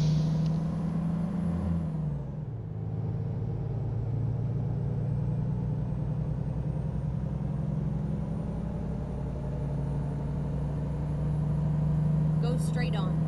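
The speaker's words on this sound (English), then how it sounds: "Damn emergency braking." A heavy truck in American Truck Simulator, a Volvo VNL 860 hauling straw bales, makes an emergency air-brake stop: a steady loud engine and road rumble with a sharp pneumatic hiss near the start and another near the end.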